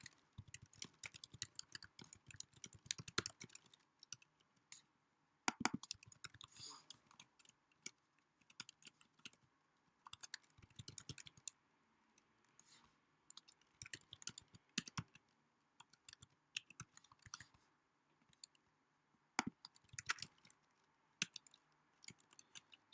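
Computer keyboard being typed on while writing code, irregular runs of quick close key clicks with brief pauses, faint and steady throughout.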